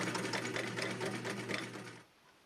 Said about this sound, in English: Now let's see if it will do a straight stitch.